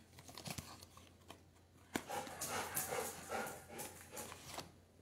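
A dog pants and whimpers close by indoors in quick, breathy bursts mixed with faint rustling, with no one speaking.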